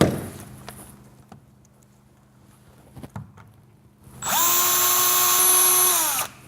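After a few quiet clicks and handling knocks, a power drill spins up and drills into a door for about two seconds at a loud, steady pitch before winding down.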